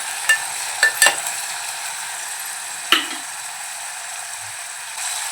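Peas, potato and carrot are stirred into cumin in a hot pan, giving a steady sizzle broken by a few sharp scraping knocks of the spoon against the pan.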